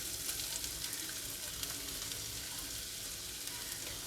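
Finely chopped carrot, capsicum and ginger sizzle in hot oil, a dense, steady crackle with occasional sharper pops close by and no talking.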